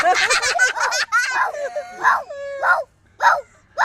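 A voice imitates a dog, producing a run of yelping barks and drawn-out howl-like cries in short bursts with pauses, close and fairly loud.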